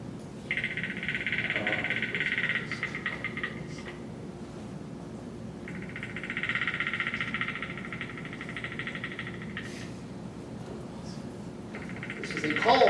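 An animatronic spider in calm mode plays a looped sound effect that includes Predator creature noises, heard as bursts of buzzing, rattling clicks over a noisy background hum.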